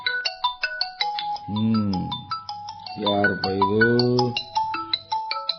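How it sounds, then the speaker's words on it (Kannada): A mobile phone ringtone plays a bright, repeating melodic beep pattern during a stage play, close and clear, while voices speak over it in the middle. "ಸೇಠ್ಜಿ, ನಿಮ್ ಫೋನ್ ರಿಂಗ್ ಆಗ್ಲಿಗತ್ತದ ನೋಡ್ರಿ"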